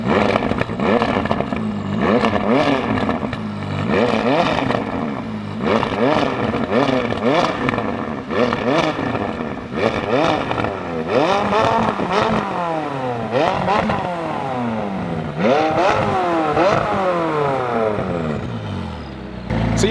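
Audi RS3, stock, running race fuel, revs hard in repeated loud bursts, the engine note rising and falling through a series of sharp climbs with crackling clatter between them, close up, with brief talk mixed in.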